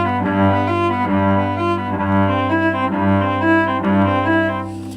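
A bowed string passage plays steady sixteenth notes slurred four to a bow, with even, smooth, regular note changes and a sustained low bass line underneath, heard alone and clearly.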